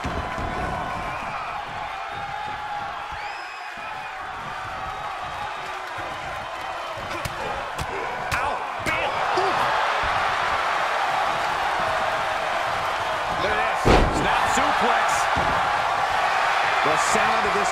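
Wrestling arena crowd roaring continuously, a loud sustained wash of cheering and shouting that swells louder partway through, with occasional sharp slams or claps cutting through.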